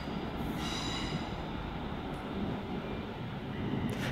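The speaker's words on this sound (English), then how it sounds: "And also arriving in the distance is going to be a Virgin Pendolino from Manchester Piccadilly." A Virgin Pendolino from Manchester Piccadilly pulling into London Euston, giving a steady, loud rumble of rolling stock with faint wheel squeal, continuous throughout with no voices.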